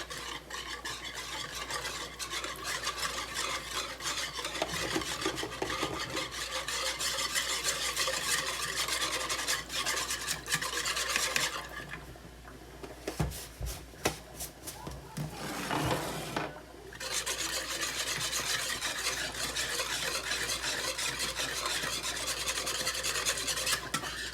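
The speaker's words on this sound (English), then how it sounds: "so you're going to whisk all this together" Sauce ingredients are whisked together in a bowl, a continuous rhythmic scraping and swishing close to the mic that pauses briefly midway before resuming steadily.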